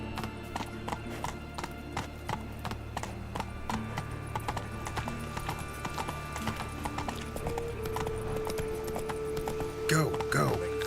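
Hooves of Roach the horse clip-clop steadily at a gallop in The Witcher 3 amid game music and ambience, with a brief whinny near the end and voices heard in places.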